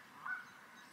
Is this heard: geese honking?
yes